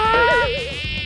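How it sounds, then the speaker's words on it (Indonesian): Many houseflies buzzing close and loud during a fly-catching contest, a steady whining drone with wavering pitch throughout. "wah banyak sekali lalat yang hinggap"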